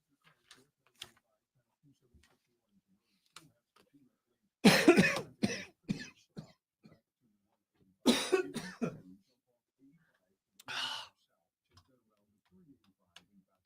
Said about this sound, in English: Held that cough off the entire time.